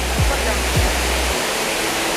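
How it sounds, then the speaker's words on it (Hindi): The Mahadevmuda waterfall at Mainpat pours with a loud, steady, broadband roar of rushing water, with a couple of brief low voice-like sounds early on. "यहीं पर वो झरना है महादेवमुड़ा का"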